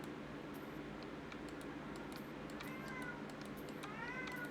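A cat meows twice in the middle distance inside a House Flipper video game scene, short rising cries over a steady low background hum and faint clicking.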